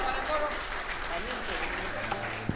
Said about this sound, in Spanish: Vamos a aplaudirlo a él.